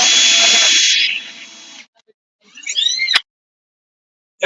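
A power drill whines loudly as it bores into a model railway layout, winding down after a couple of seconds, followed by a short grinding burst and a sharp crack, then silence.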